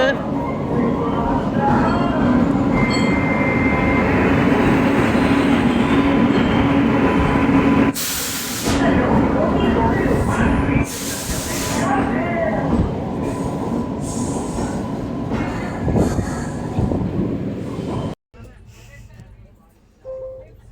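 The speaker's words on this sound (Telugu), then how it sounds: "వచ్చింది అమ్మాయి షిరిడి ట్రైన్." A train bound for Shirdi rumbles loudly into a station, a heavy continuous roar with clanks and brief screeches, easing off near the end as it slows.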